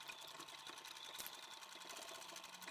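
A sewing machine runs steadily as it stitches a seam on a fabric tote bag, a quiet, even, rapid mechanical chatter heard close up with no voices.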